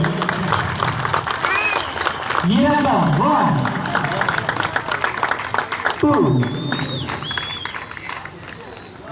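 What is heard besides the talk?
crowd applause at silambam world record event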